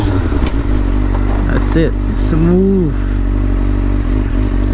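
A motorcycle engine drones steadily up close while the rider downshifts, with a brief rising and falling rev blip in the middle; someone speaks a few words over it.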